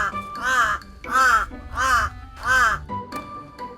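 A pet crow from Negros Occidental gives four loud, close, evenly spaced harsh caws followed by a shorter final call, with no other sound between them.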